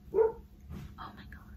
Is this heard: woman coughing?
no